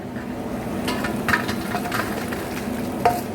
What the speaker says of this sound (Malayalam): വറുത്ത് കോരുവാണേ